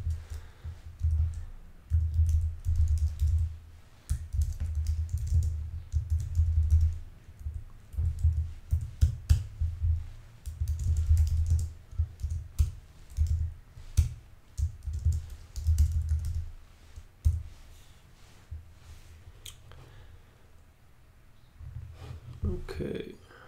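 Keystrokes on a computer keyboard while writing CSS code come in uneven bursts of close, quiet clicking and tapping, with pauses between runs.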